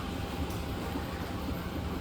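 A KRL commuter train running, a steady broadband rumble and rail roar throughout, close and continuous, with no talk.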